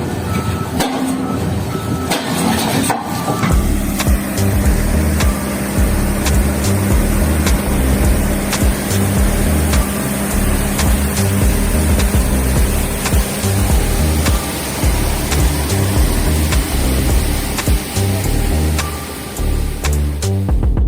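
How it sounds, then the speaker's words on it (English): An XCMG excavator's hydraulic chisel hammers a boulder with rapid, steady repeated blows over a loud diesel engine drone, continuous and close for the whole stretch. "An XCMG excavator chisel chips off a boulder."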